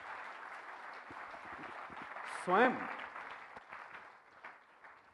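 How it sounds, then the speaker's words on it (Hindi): An audience applauds to welcome a speaker at a Namo Impact coffee table book event, a steady wash of clapping that swells briefly mid-way while a voice talks over it. "प्लीज जोरदार तालियों से आपका स्वागत"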